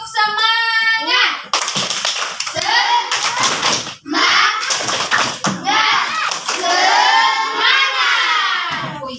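Classroom of children performs a rhythmic spirit clap, sharp patterned hand claps alternating with loud chanting and shouting voices, after a teacher's sung lead-in.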